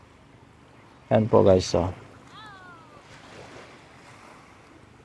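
Surf rolls onto the white-sand beach at South Palm Resort in Panglao, Bohol, a soft, steady wash that stays low in the background, briefly covered by a short burst of someone talking.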